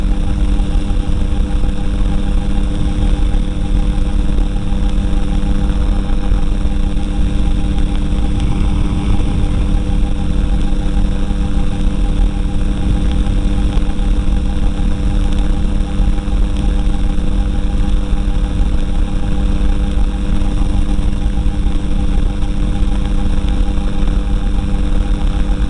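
A light aircraft engine runs steadily before take-off, a loud continuous drone with a constant pitch close up throughout.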